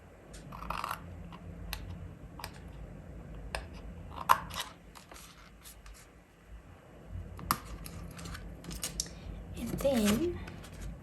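Scissors snip through a paper box piece with sharp, irregular clicks and crunches, close and fairly quiet, while a person talks throughout.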